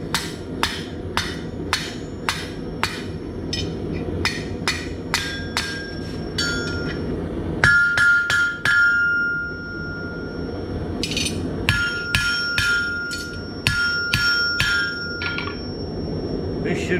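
Hammer blows forging hot steel for an eagle bottle opener, sharp metallic strikes in quick bursts with short pauses, ringing tones between groups, a few louder clanks near the anvil.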